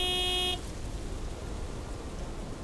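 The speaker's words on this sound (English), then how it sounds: "Big, white, wobbly, and with a honking great horn." A truck horn in a video game gives one loud, tonal honk lasting about half a second and cuts off abruptly, leaving a soft, steady hiss of ambient noise.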